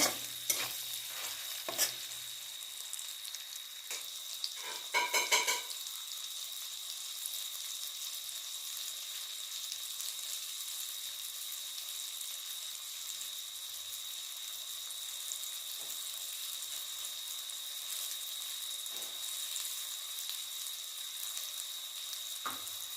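Tomatoes with cumin powder, coriander and garam masala sizzle in a pan while a spatula stirs and scrapes in a few brisk bursts early on, then a steady soft frying hiss carries on alone.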